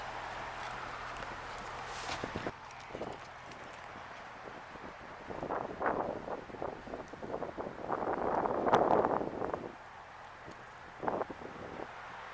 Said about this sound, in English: I'm sure it's a little windy.